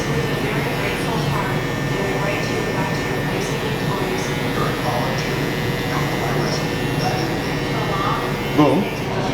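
Electric clippers buzz steadily during a barber's skin fade haircut using detachable blades, a close continuous hum with a brief louder touch near the end, while a person talks over it.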